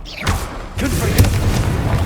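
A Confringo fire spell explodes in Hogwarts Legacy with a deep, booming thump, then a second burst and a rumbling tail. A voice is heard around the blasts.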